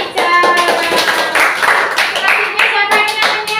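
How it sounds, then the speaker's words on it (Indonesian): Schoolchildren in a classroom clap for a classmate, a close, lively burst of uneven hand claps with bright tonal sounds mixed in, rising and falling over several seconds. "Oke, tepuk tangan buat Mica."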